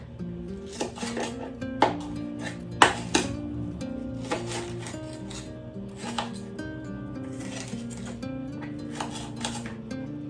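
Knife chopping onions on a cutting board, with irregular knocks and clinks of a blade and dishes over a steady low hum of music or kitchen noise.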